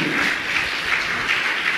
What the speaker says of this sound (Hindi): ताली तो बजाइए आप।